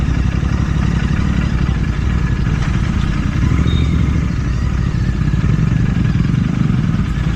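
GT650 motorcycle riding over a rough road under construction, its engine a loud, steady close rumble mixed with constant clattering and wind buffeting.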